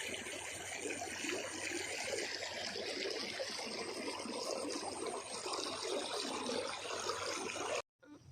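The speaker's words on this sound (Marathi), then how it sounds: "या शेतातून बघा कसा ओढा वाहिलाय।" A rain-swollen stream rushing through farmland at Vadgaon Station after two days of rain, a steady full roar of flowing water that cuts off abruptly near the end.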